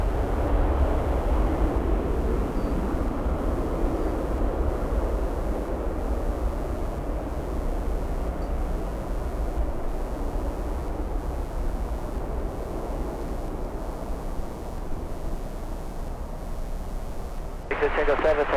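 A UPS plane landing at Miami International Airport makes a steady broad roar of jet noise that holds throughout, with someone talking faintly beneath it.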